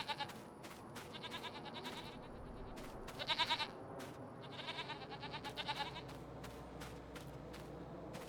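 Goats bleating in Farming Simulator 25, a large herd of about ninety-four animals crowded into a small pen, with overlapping bleats rising and falling in clustered bursts against a steady ambient background, no talk.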